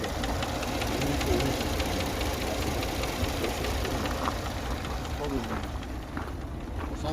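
A used Volkswagen Passat's engine runs at a steady idle with an even mechanical knock, loud and close, constant throughout with a bit of background noise.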